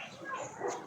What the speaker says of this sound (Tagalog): Takbo, may aso.